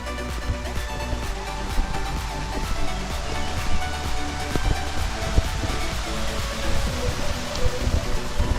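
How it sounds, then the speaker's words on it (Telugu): Kothapalli waterfall in Andhra Pradesh, a constant heavy roar of falling water, loud and close, unbroken for the full stretch. "ఇదే కొత్తపల్లి వాటర్ ఫాల్స్"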